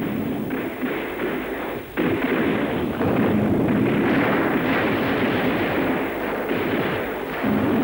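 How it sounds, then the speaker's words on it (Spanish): Soviet artillery rockets fire and explode during a Vietnam War battle near Tchepone, a loud, continuous rumble of booms and thuds with sharp sudden bursts running throughout. "de nuevo se encontraron con fuego inesperado. Cohetes de artillería soviéticos."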